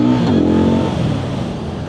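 KOVE 625V Lancer cruiser motorcycle engine shifting up into second gear, a steady, close engine drone with a falling pitch after the shift and no speech.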